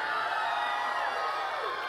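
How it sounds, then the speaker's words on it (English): A crowd cheers at Martha Coakley's concession speech, a dense, steady roar of voices and applause with no clear breaks. "Somebody told me there was a crowd out here."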